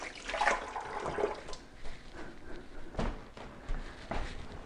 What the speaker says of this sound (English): And now just wash your hands.